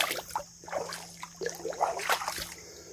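Water splashes and sloshes as someone wades through a cold, rocky creek while tracking a deer, with uneven bursts of splashing from nearby steps and brief gaps between them.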